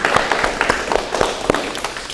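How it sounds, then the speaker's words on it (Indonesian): Scattered applause from a small group closing out a practical session on diagnosing electronic ignition system faults, with uneven, sparse claps over about two seconds. "Kita berikan aplaus lagi ke semua kelompok."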